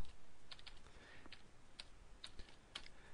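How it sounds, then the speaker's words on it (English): Quiet, sparse clicks of typing on a computer keyboard, a few scattered keystrokes over steady low background hiss with no one talking. "So very simply, we type in one print statement"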